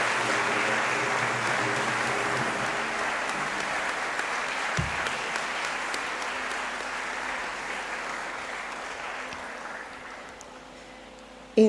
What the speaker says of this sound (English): our distinguished lecturer deserves another resounding round of applause